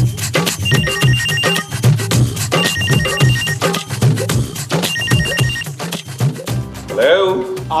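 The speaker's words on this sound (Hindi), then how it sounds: "अरे वो यकीनन किराए के लिए फोन कर रहे हैं, अगर हम यहाँ बैठे तो हमें फोन उठाना पड़ेगा।" An electronic telephone ringtone trills in repeated bursts with short gaps, loud and close, before a voice speaks near the end.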